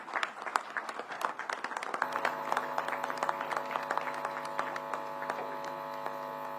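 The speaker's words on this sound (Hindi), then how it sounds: "जोरदार तालियां बजती रहनी चाहिए" Dense applause from a crowd at a political party event with the state chief minister present, a busy patter of clapping over a steady electrical hum from the venue's sound system.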